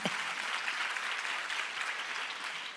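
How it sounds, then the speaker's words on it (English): An awards-ceremony audience applauds a retired teacher of 35 years with an even, continuous wash of clapping heard from a distance, fairly faint throughout. "let's give her a round of applause"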